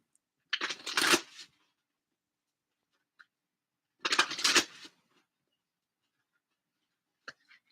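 Enchanted Map Oracle cards are shuffled in two close, crisp bursts of riffling about three seconds apart, with a faint tap at the end in an otherwise quiet room.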